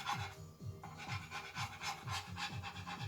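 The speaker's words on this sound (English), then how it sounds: "I'm only rubbing the transfer paper, which is like a plastic sheet." A metal tool rubs back and forth over plastic decal transfer paper laid on a Technics 1200/1210 turntable deck, producing a steady, close rasping scrape in repeated strokes about twice a second.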